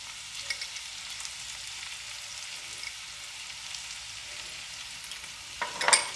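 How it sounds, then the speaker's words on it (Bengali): Chopped onions frying in oil with salt in a pan, a soft, steady sizzle close by, ending in a brief louder burst of clatter. "এবার আমি পেঁয়াজ কুচিগুলো দিয়ে দেব। এবারে এখানে আমি একটু নুন দিয়ে দিচ্ছি।"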